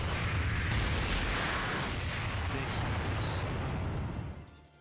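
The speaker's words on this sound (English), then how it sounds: "That's a big explosion." A big explosion from the Fate/Apocrypha anime, heard as a loud, sustained roaring blast with heavy low rumble that holds for several seconds before dropping away at the end.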